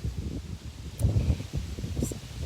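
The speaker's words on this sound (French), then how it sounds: "Il y a du vent, si ça griche, vous me le dites." Wind buffeting a microphone outdoors, a steady low rumble with gusty swells and rustling across the whole clip, fairly loud and close, with no talking.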